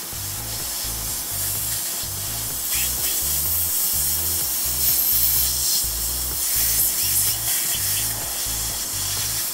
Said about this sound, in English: lightly micro etch for 1 or 2 seconds the adhesive on the base of each bracket